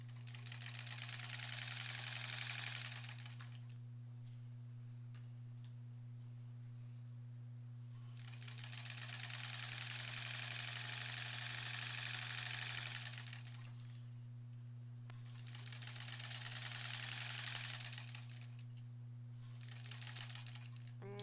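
A sewing machine sews a quilt seam on a granny squares quilt in three bursts of steady whirring, separated by quiet pauses, over a constant low electrical hum.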